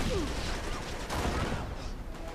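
Grenade blasts and gunfire in the video game Uncharted 3 Drake's Deception form a loud, dense rumble of explosions and shots throughout, with a heavy burst near the middle and a voice faintly mixed in.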